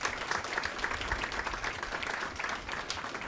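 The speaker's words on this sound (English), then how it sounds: "So a round of applause for all our panelists." Audience applause for the panelists at an AI panel event, a steady, dense patter of many hands clapping continuously throughout, with no distinct voices above it.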